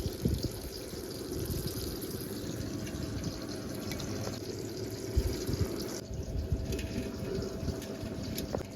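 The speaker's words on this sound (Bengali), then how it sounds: "তার আগে একটু ধুয়ে পরিষ্কার করে নেব।" Large green chillies being washed under running water in a kitchen, a continuous splashing trickle and flow with a few small knocks and clatters, no talking.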